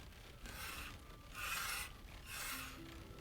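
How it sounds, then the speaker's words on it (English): A wooden spoon scrapes softly against a copper pot of fruit jam cooking in a kitchen, rising and falling in three gentle, rasping swells, close and quiet with no voices. "the soft scrape of a wooden spoon against copper"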